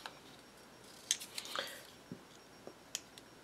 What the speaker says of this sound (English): these are the Chamel Get Crafty scissors